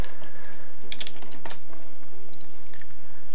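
Keys clatter on a computer keyboard in a quick, uneven burst of typing, close and clear, with short pauses between clusters of keystrokes and no voice.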